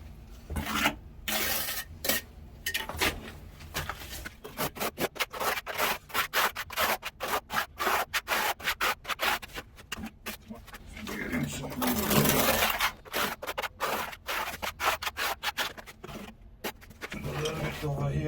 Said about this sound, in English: we're gonna back butter our wall. Just take up the mortar, draw down to the wall